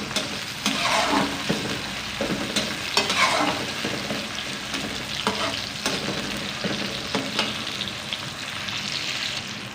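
Onions and tomatoes fry in a pan for a chicken gravy salan, giving a steady close sizzle that runs throughout, broken by occasional scraping stirs of a spoon.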